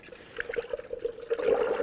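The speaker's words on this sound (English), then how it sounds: "go ahead and fill up our cooling system" Coolant mixed half and half with water trickles and pours into the cooling system of a 2006-12 Ford Fusion during a water pump replacement, a soft uneven gurgle close by.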